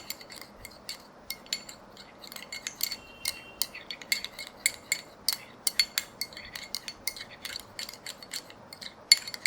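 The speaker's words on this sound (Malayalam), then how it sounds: "ഇട്ട് കൊടുത്തതിന് ശേഷം നന്നായിട്ട് മിക്സ് ചെയ്യുക" Instant coffee powder face pack stirred in a small bowl, a steady run of light clinks and scrapes from the spoon against the bowl, close and fairly quiet with no talk.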